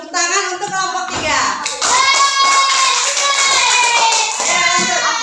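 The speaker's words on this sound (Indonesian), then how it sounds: "Tepuk tangan untuk kelompok 3" A group of children claps for group 3 in a classroom quiz, brisk hand claps mixed with overlapping kids' voices and a tonal sound throughout, loud and close.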